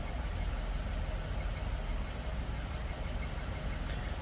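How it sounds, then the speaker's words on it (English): The flathead engine of a 1939 Ford Deluxe two-door sedan idles smoothly, a steady, even low rumble heard close up without talk. "No crazy exhaust, just a smooth running flathead."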